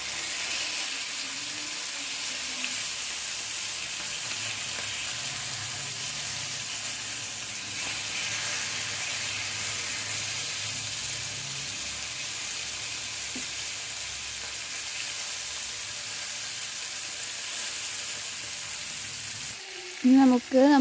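Pearl spot fish (karimeen) frying in a pan gives a steady, dense sizzle that holds evenly for a long stretch, close and fairly loud, ending with a couple of sharp clanks as the pan is handled.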